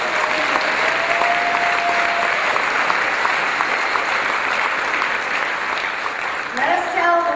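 An audience at a Tamil community convention claps steadily and densely through a political speech event. A voice briefly cuts in near the end.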